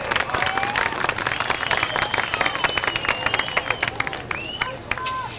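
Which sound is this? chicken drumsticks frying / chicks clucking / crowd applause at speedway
crowd applause at speedway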